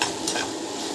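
Okra stir-fry sizzles in a pan while a spoon stirs and scrapes through it, close and loud in a brief burst of frying.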